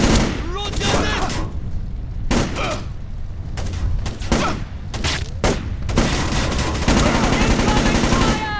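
Bursts of gunfire in the stealth video game Splinter Cell: Chaos Theory, several sharp volleys and machine-gun rattles repeating through a firefight, loud and close with shouting voices in between.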